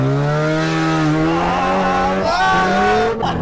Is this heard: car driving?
yes